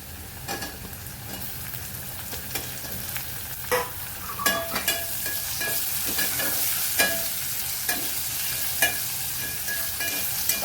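Finely chopped tomatoes are stirred and sautéed in a pan until soft, a continuous sizzle broken by frequent scraping and clattering spatula strokes at an irregular pace, fairly close and with no talk.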